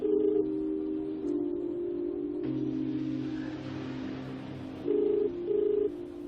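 Telephone ringing unanswered in a Filipino TV drama, a repeated electronic ring tone pulsing in bursts over a low background hum, moderately loud, with no one picking up.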